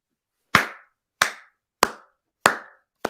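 Five sharp hand claps ring out one at a time at a steady, deliberate pace, each a crisp loud smack with a short decay, close to the listener with silence between them, given as a mock salute to international basketball.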